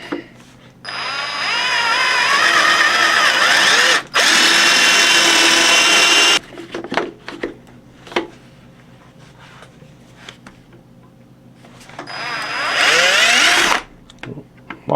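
A drill press bores holes into a wooden board: a loud, steady whining run of several seconds with a brief pause partway through, a stretch of quieter clatter, then a second shorter burst of drilling near the end.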